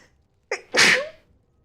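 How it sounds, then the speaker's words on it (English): One close, sharp sneeze with a quick intake of breath just before, leaving a brief ringing tail in a bare, unfurnished room. "My sneeze echoed because there's no furniture in this room"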